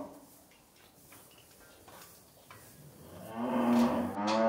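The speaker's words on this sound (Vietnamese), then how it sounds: "Có con bò này với lại hai con bò to ở đây." Farm cattle, including a heavily pregnant cow, moo on a winter farm: a loud, drawn-out low moo swells near the end over a quieter background of faint ticking and shuffling sounds.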